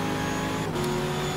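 A race car engine in the racing game GTR 2 screams under hard acceleration on the final straight at Virginia, a loud, steady high-pitched roar with a brief dip where the gear changes.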